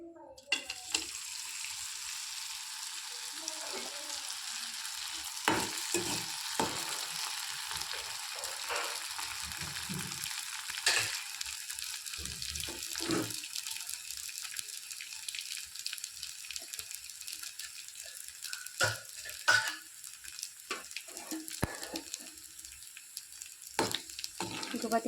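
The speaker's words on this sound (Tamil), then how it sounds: "இப்போது எண்ணெய் நல்லா காய்ஞ்சிருச்சு, நம்ம வடகத்தை போட்டு பொரித்து எடுத்துக்கலாம்." Vadagam frying in hot oil, a continuous crackling sizzle with frequent sharp pops and spatters throughout, close and fairly loud, with no talking.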